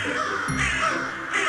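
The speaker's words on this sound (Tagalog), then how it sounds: "Siya si Waray, ang puting uwak na tila mas friendly." A rare white crow gives a couple of hoarse, close caws in quick succession, loud and unaccompanied by any voices.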